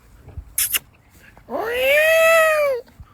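A single loud, wailing peacock call rising and then holding for over a second, preceded by a couple of faint clicks and quiet background noise.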